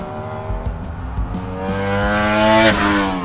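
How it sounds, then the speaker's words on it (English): Ducati Panigale V4 S and other motorbikes out on a race track, engines revving and rising in pitch as they accelerate past, loud and near, with a brief tire squeal and no voices. "Now you're going to hear a lot of bikes out on track"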